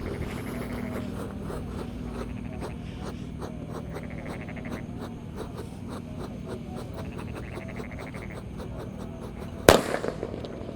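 A Disco Happy Flower firecracker lit and pushed into the ground on a Ramadan night goes off near the end with one sharp, loud bang and a short crackle, after a long stretch of quiet, steady outdoor background.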